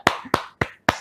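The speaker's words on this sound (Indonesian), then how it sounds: "Tepuk tangan semuanya." Four sharp hand claps ring out in an even rhythm, close and crisp, each one separate with short silences between, no voices.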